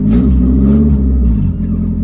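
Mazda Miata engine with the exhaust removed, an old car left sitting for eight years, runs loud and raw up close, with a steady rough rev and no one talking.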